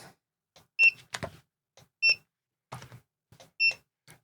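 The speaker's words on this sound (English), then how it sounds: "there are 3 beeps to get it registered" Three short electronic beeps evenly spaced over a few seconds, each clear and close, with soft clicks and handling noises between them.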